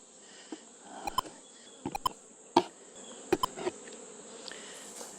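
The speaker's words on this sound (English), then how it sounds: "Wow, there are a lot of bees in here." Honey bees hum and buzz around an open hive, a soft continuous drone broken by several brief, sharp ticks and taps, fairly quiet and with no talking.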